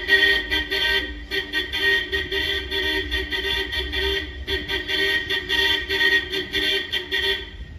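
Car horns honking repeatedly in a busy industrial district of Izmir on a crowded Sunday, loud close toots in short bursts with brief gaps, over a low rumble of vehicle engines.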